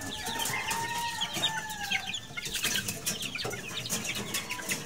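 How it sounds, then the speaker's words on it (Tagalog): Roosters on a poultry farm cluck and call without pause, close and fairly loud, with scattered higher bird calls over steady farmyard noise. "Mga tandang lahat yan."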